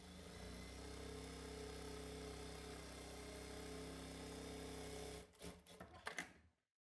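A sewing machine runs steadily while stitching a child's dress, a loud continuous mechanical whir for about five seconds that then stops, followed by a few brief handling clatters.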